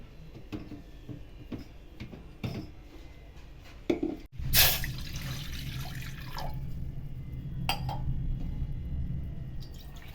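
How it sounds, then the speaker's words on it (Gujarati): Water is poured from a glass into a pan for gulab jamun sugar syrup, with a few light drips and clinks, then a sudden splashing pour that settles into a steady, soft trickle, close up and fairly quiet. "એક ગ્લાસથી 2 ગ્લાસ જેવું પાણી એડ કરીશું."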